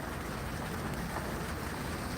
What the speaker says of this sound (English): yep, here comes the rain.